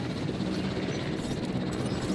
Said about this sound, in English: Helicopter, get in here.